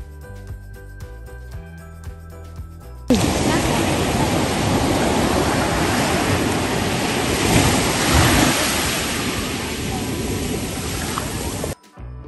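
Ocean waves on a beach in Goa, a steady loud broadband wash of surf with wind rushing over the microphone, sustained without a break after a brief quieter opening.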